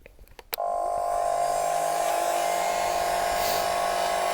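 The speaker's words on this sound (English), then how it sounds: "So I'm going to take a heat gun and see if I can get that off." A heat gun starts up with a click and then blows hot air in a steady, loud, even whoosh with a constant motor hum, running alone and close by for several seconds.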